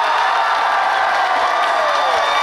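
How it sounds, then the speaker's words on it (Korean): Outdoor concert crowd at a trot music show applauds and cheers steadily, a dense, loud wash of clapping and whoops with no pause. "큰 박수 한번 치겠어요"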